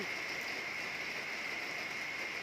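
Steady rain falls in Khlong Luang, Pathum Thani, a continuous even hiss of drops on surfaces with no voices, holding at a constant moderate level throughout.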